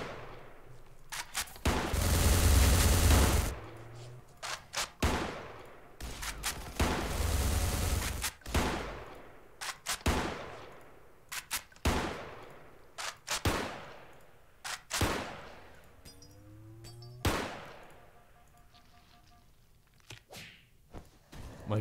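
A robot's loud gun fires repeatedly in the video game Space Station 13, with sharp cracking shots and a couple of longer roaring bursts spread unevenly across the stretch.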